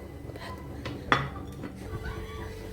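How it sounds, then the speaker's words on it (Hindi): A metal cooking pot is covered with its lid, giving one sharp clink amid quiet kitchen clatter and low background noise. "अब इसको हम ढक देते हैं"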